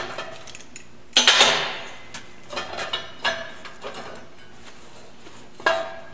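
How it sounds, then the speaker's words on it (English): A steel welding coupon being removed from its fixture, with a sharp metallic clank followed by several lighter taps and rattles of metal parts, close and fairly faint between the hits. "I'm going to take the coupon out of the fixture."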